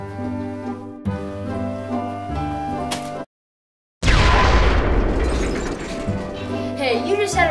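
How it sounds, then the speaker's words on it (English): A batch of exploding peanut butter goes off at a desert firing range, a sudden loud broadband blast after a brief silence, its rumbling crash lingering over several seconds and cutting across a tonal musical backing. "make sure each batch of peanut butter has a quality explosion"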